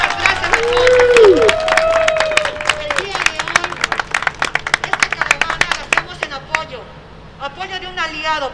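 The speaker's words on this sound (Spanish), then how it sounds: "un aplauso muy grande para toda la comunidad hispana" A crowd claps loudly and continuously with some cheering at a Joe Biden campaign event in Las Vegas, while a voice shouts in Spanish over the applause at the start.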